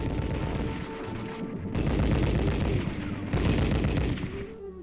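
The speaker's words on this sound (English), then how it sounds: "Theory first with the heavy machine guns, and then practice." Sustained heavy machine gun fire during military training, a dense continuous roar of rapid shots in long loud bursts with brief dips between them.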